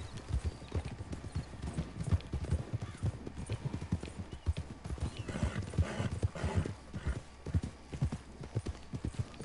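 Rapid, rhythmic hoofbeats of a galloping horse in the video game Red Dead Online, steady and close, with a brief neigh and faint background noise.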